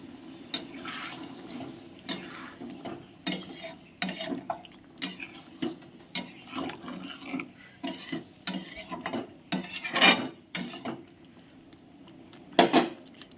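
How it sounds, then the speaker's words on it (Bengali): Hot water poured into a pan of chicken for a Bengali chicken kosha, splashing and sloshing in repeated bursts with metallic clinks of the pan, close and moderately loud, no talking. "এবারে আমি মাংসের মধ্যে গরম জল অ্যাড করছি।"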